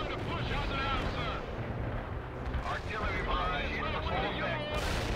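Artillery fire mission striking in the World in Conflict: Soviet Assault strategy game, a sustained rumbling barrage of blasts with crackling debris, loud and continuous throughout with battle noise layered underneath.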